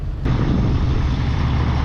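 A Peterbilt show truck pulls away at a truck show, its diesel engine kicking in abruptly with a loud, steady rumble. The engine drones close by for under two seconds.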